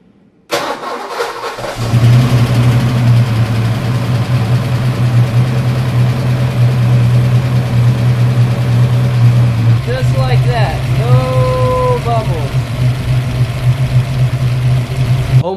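A turbocharged Fox Body Mustang engine cranks and fires up close by after a quiet moment, then settles into a loud, steady, rumbling idle. Voices talk over it near the end.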